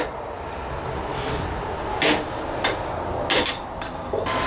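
A hammer strikes hot steel on an anvil while a rasp is forged into a knife, giving several sharp, bright impacts at irregular intervals over a steady background hiss.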